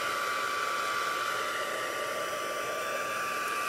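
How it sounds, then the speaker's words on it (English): A heat tool blows hot air to dry rubbing alcohol on alcohol-marker artwork, giving a loud, steady, unbroken whooshing hiss close to the mic from start to finish. "I'm going to use the heat tool just so I can go ahead and use my sheet for today. So I'm going to make a little bit of noise."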